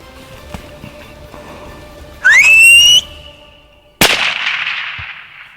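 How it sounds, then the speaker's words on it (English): On an African safari hunt, a single loud, rising whistle from a person, held briefly, followed by a sharp bang that fades away. "I'm gonna whistle."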